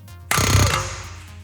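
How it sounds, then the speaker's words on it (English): An air hammer drives a chisel into the bottom of an impact nut to break a track rod end taper, a single sharp, loud burst of rattling impact that rings briefly and fades. "Air hammer, chisel into the bottom of the impact nut"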